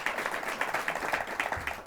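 Faint, brief clapping from a small audience at a community event, a light patter of hands heard at a distance.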